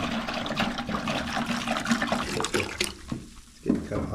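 Distilled white vinegar pours from a jug into a 5-gallon bucket with a continuous splashing gurgle that briefly dips toward the end, while a person talks over it.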